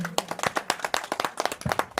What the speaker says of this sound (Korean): 박수 좀 세게 쳐주세요.